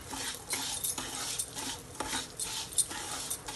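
Wheat semolina dry-roasting in a pan, stirred steadily with a metal spoon that scrapes and clinks against the pan in a continuous, close rhythm, with no voices.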